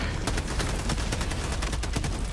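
Dense, continuous gunfire from Helldivers II, a rapid barrage of overlapping shots with sharp repeated cracks over a sustained roar, loud and close throughout with no talking.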